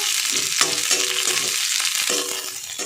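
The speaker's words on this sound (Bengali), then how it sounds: "কিচমিচটাও আমি একটু হালকা করে ভেজে নেবো কিচমিচ কিন্তু খুব তাড়াতাড়ি ভেজে যাবে" Raisins lightly frying in a pan, a close, steady sizzle with soft stirring scrapes and small crackles throughout, no voices.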